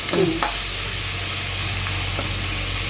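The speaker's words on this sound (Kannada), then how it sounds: "ಈರುಳ್ಳಿ ಸ್ವಲ್ಪ ಕೆಂಪುಗೆ ಫ್ರೈ ಮಾಡೋದು" Onions fry in a pan until lightly reddened, giving a loud, constant sizzle close by, with a couple of brief scraping stirs near the start and one later.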